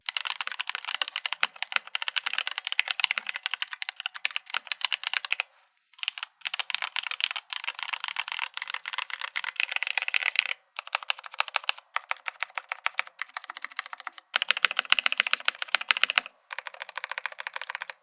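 Rapid typing on a mechanical keyboard with stock Gateron Yellow switches, a continuous close-up clatter of keystrokes broken by several short pauses, with no voices.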